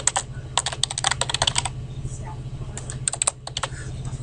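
Quick bursts of clicking keystrokes on a computer keyboard as an answer is typed into a login form, with short pauses between clusters.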